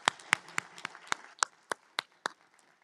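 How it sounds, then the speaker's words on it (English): A graduation commencement audience gives a short round of applause, heard as a sparse sequence of distinct, fairly close claps spaced at a steady rhythm. "How about another hand of applause for Ms."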